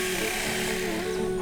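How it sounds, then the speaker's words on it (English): A drill bores a hole into an animal's horn to fit a transmitter, giving a steady close mechanical whine that holds an even pitch and barely dips throughout. "We drill a hole into the horn for the actual transmitter"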